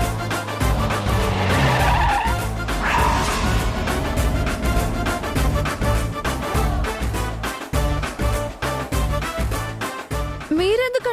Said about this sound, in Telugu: మీరెందుకండి సడన్ గా కారు ఆపారు?